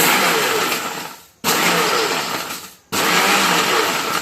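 A kitchen mixer grinder powdering flax seed chutney powder, a loud close whirring roar run in three short pulses with brief stops between them.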